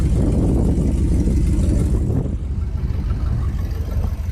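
A loud, rough engine rumble runs steadily throughout, deep and raw like an unmuffled car idling close by, easing slightly partway through.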